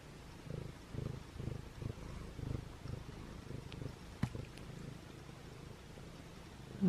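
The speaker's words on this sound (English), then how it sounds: "Do you hear him purring?" Steady low rumbling purr from a nearby formerly feral cat, pulsing in a slow, even rhythm with a brief soft click partway through.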